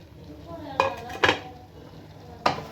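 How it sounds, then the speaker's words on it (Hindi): Fried okra tipped into a pan of cooked masala for masala bhindi, giving three sharp metallic clatters of utensil on pan over a low background hum, with no talking. "अब मैं इसमें फ्राई भिंडी डालूँगी।"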